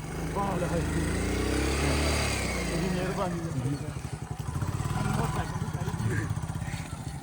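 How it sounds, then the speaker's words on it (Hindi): A motorcycle rides along a rough road, its engine a steady mid-pitched chug with a rattling, bumpy texture throughout, while people talk over it. "ये ऐसे जाती है बाइक, देख रहे हैं ना आप लोग।"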